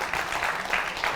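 A studio audience at a singing competition rises in a standing ovation. Brisk, steady clapping fills the room in a dense, even patter from start to finish.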